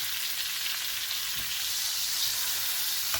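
A roast sizzles and fries steadily in a hot pan as it is turned, a close, even crackling hiss with no talk.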